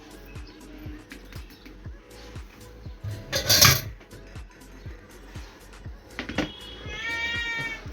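A pet cat named Tuktuki meows in a home kitchen, with one loud, sharp meow near the middle and a longer, drawn-out cry toward the end over soft clinking and background noise.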